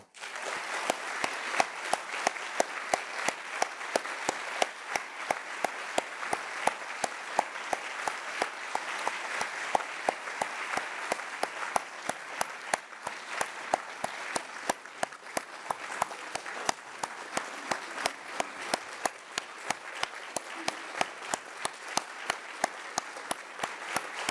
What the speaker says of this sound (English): I do want to give a heartfelt round of applause